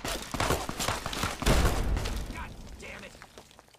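Rapid bursts of gunfire from the video game Fallout: Tale of Two Wastelands crackle and pop through the first half, peaking in a heavier blast, while a player curses and talks over the action.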